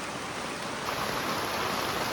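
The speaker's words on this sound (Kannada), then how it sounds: "ಮಳೆ ಜೋರು ಬರ್ತಾ ಉಂಟು." Heavy rain falls steadily on a village home, giving a dense, even hiss with no distinct drops, heard at moderate level with no one speaking.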